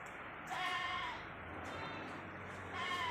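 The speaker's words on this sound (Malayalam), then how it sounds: "ഏകദേശം ഒരു ആറ് മാസത്തിൻ്റെ അടുത്ത് പ്രായമായ ആടുകുട്ടികളാണ്" Young goat kids, about six months old, bleat in short nasal calls at a livestock sale in Manjeri, a few bleats standing out over steady hum and outdoor background noise.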